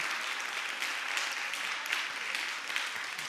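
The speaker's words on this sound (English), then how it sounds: "And so give Gloria Zervine a big round of applause." An awards ceremony audience claps in a dense, sustained burst of applause filling the hall, steady and fairly loud throughout with no speech.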